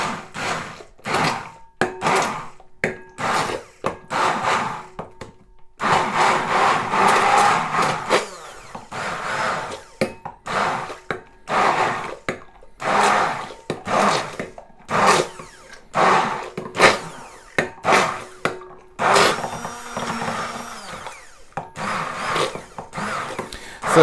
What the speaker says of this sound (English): we can then use a blender and mix it all together